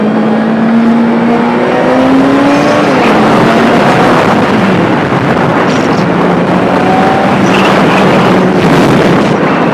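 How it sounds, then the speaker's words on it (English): A motorcycle engine roars loudly and steadily while being ridden, with engine tones rising and shifting under strong wind rush throughout, with no talking. "I'm like a kid when it comes to hearing my bike. Like, I love the loudness of it."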